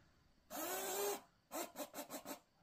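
Märklin Z gauge BR 89 model locomotive running on its track after cleaning and greasing, a steady whirring buzz for about a second, then a run of five or six short rhythmic motor bursts, close and fairly quiet.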